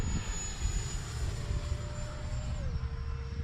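An FMS Viper 70mm electric ducted-fan RC jet flies by under power, a steady loud whooshing roar with a whining tone that drops in pitch near the end as it passes.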